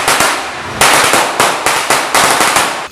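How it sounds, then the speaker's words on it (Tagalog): Small firecrackers going off at a New Year's Eve medianoche celebration, loud and close in rapid crackling bursts that repeat in several quick salvos, with no talking. "paputok, yung mga maliliit na firecrackers"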